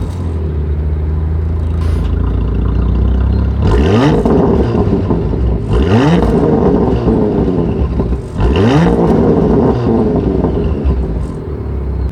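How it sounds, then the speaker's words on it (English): Valved quad-tip exhaust of a 2023 Porsche Macan GTS idles with a low burble, then blips sharply three or four times, each rev rising quickly and falling back, loud and close. "But have a listen to this exhaust system."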